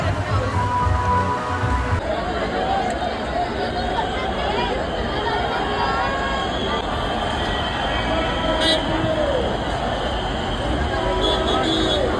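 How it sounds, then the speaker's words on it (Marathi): Heavy monsoon rain pours steadily during the Ganpati immersion at Girgaon in Mumbai, a dense continuous wash with crowd chatter and occasional voices mixed in throughout. "आणि पुन्हा एकदा तुफान पाऊस आलेला आहे बघा"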